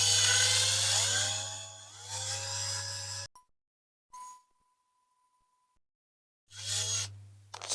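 A titanium drill bit bores into a diecast Dinky Toys military ambulance, the motor whining loud and close in two bursts separated by a long quiet gap with a short tone.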